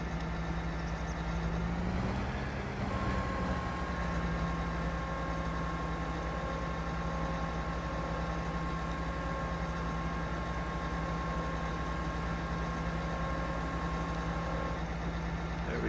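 A Krone BiG M 500 forage harvester engine idles in Farming Simulator 22, giving a steady, even drone with a constant hum and a slight shift near the start, with no voices.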